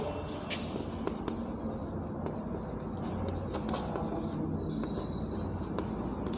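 Steady scratching of writing on a board during a physics lecture: continuous marker or chalk strokes with small taps, close and fairly loud over constant room noise.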